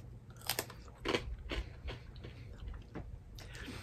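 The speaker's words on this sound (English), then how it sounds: "The texture is nice. Very crunchy." Someone bites into a spicy red-dusted chip-like snack, giving sharp close crunches followed by steady chewing crackles, several distinct bites spaced across the moment, with no talking.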